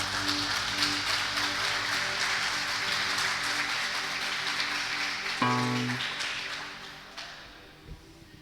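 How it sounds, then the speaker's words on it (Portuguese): A church congregation claps together for about five seconds in a dense, even patter. The clapping then thins out under a short sustained musical tone and fades to quiet. "Você consegue aplaudir o Senhor?"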